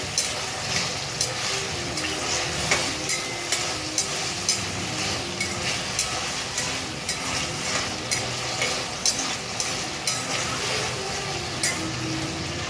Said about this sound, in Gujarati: બટેટાને હલાવતા રહેવાનું.